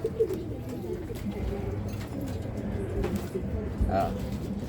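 Soft, low racing pigeon coos repeat in the background alongside faint voices and room noise.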